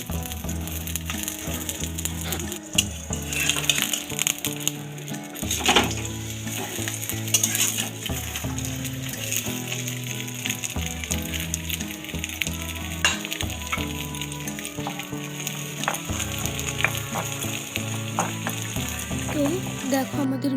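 Radish paratha frying in oil in a kadai, a steady close sizzle running throughout with light scraping and clinking from turning the flatbread, with no talk over it.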